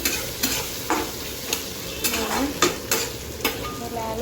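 Jackfruit seeds stir-frying in a pan, a steady close sizzle broken by about eight regular scraping strokes of a spatula against the pan.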